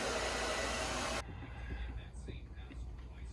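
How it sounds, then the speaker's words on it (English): A hair dryer inside an RV running off grid on battery power blows with a steady loud whoosh, then cuts off abruptly, leaving quiet room noise and faint rustling. "she can run the hairdryer for 4 hours"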